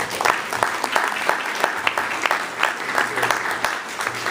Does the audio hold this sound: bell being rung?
no